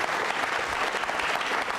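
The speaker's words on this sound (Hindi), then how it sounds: "तालियां बजाइए जोरों से उनके लिए।" Audience applause at a community quiz show, a dense, steady burst of clapping from a crowd lasting the whole short stretch, fairly close and even in loudness.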